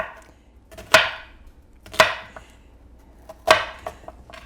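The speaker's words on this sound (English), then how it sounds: "So I'm just going to cut off that other end, and then I'm just going to go along like this" Knife blade cutting a red onion into inch-sized pieces on a board makes three sharp, crisp chops about a second apart, close and clear, each followed by a brief ringing decay, with no talking.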